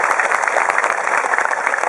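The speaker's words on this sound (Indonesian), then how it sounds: "Saya minta tepuk tangan dulu kangge panitia yang luar biasa." Brief burst of steady applause from a crowd at a public religious gathering in a prayer hall, thanking the organizing committee, continuous clapping with no pauses.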